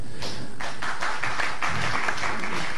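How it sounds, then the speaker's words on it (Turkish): Applause for a poem reading at a live Turkish TV broadcast, heard as a short burst of scattered clapping from a small audience, moderately loud and close, with no talking over it. "buradan hakikaten kardeşime derin bir alkış göndereyim"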